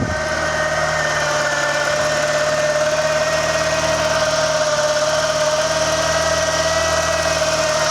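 A Turbo Coupe's engine idling under an open hood shortly after a cold start: a loud, close, steady and smooth idle with an even mechanical hum and no voices.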